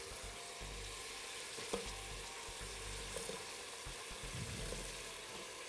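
Carrot and potato pieces frying in a hot pan, a steady close sizzle with a few light clicks of stirring, alone without talk.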